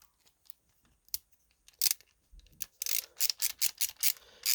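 Small metallic clicks and ratcheting turns come from fastening a new adjustable brake linkage to the foot pedal of a Lowrider ST motorcycle, sparse at first, then a quicker run of sharp, close ratchet strokes.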